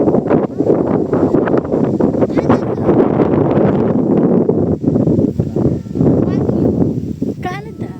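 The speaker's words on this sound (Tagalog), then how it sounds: "Ang lakas ng hangin." Strong wind buffets the microphone outdoors beside a garden plot, a steady loud rumbling roar that continues throughout, with people talking under it.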